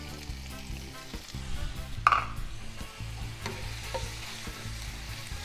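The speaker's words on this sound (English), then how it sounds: "And I'm going to go ahead and add in my onions." Onions, added after garlic, sizzle in a hot pan for chicken curry: a steady, close frying hiss with a sharp burst of crackle as they go in, then light stirring scrapes, no talking.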